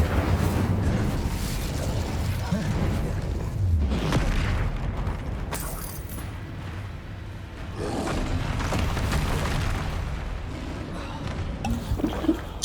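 Roaring fire and deep explosive rumbles from an Incendio fire spell fill Hogwarts Legacy combat, forming a long, dense, surging wash of noise with louder swells.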